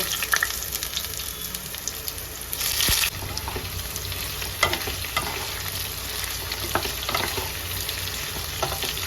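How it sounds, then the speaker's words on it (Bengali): Jackfruit pieces fry in mustard oil with a continuous crackling sizzle, stirring scrapes, and a louder hissing burst partway through. "এবার আমি এঁচড়গুলো ভেজে নেব"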